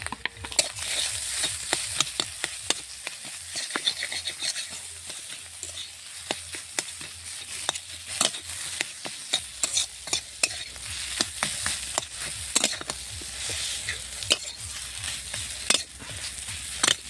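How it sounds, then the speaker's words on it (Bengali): Potato curry sizzles and fries steadily in a pan with green chilies while a utensil scrapes and stirs with frequent clicking knocks, close by with no talking. "কাঁচা মরিচ দিয়ে তরকারিটা একটু কষিয়ে নিলাম"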